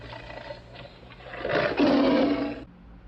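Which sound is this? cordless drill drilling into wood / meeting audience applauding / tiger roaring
tiger roaring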